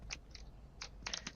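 Faint, close crunches of someone chewing crunchy food come in a few short bursts with gaps between them, quiet against a soft background.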